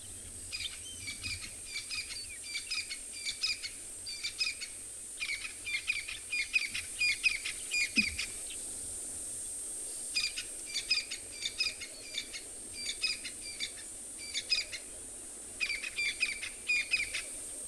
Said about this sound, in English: Then all melody sound that coming out from the background, that's a crested francolin.